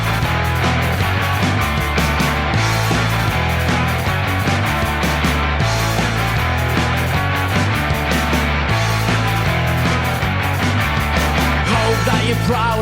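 A song plays as a full band mix, steady and loud throughout with a driving bass line and a dense upper texture, and no talking over it.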